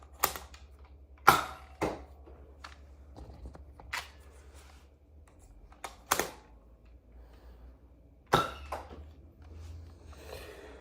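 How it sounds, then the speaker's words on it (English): Nerf Elite 2.0 Volt SD-1 blaster firing Screamer darts, a series of sharp close plastic snaps spaced a second or two apart, with faint handling noise between shots. "Now firing some Screamer darts."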